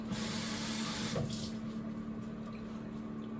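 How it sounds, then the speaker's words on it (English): Tap water runs steadily into a kitchen bowl as it is rinsed out after mixing an oxtail marinade, a continuous close hiss of flowing water with a faint clink partway through and no talking. "And then we're going to rinse the bowl out a couple of times"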